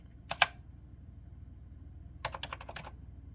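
Keys clack on a Commodore 64 keyboard in two short bursts, a quick pair of presses followed after a pause by a rapid run of several crisp, close clicks against a quiet background.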